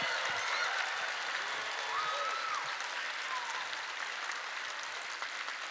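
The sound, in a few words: audience applause for the poets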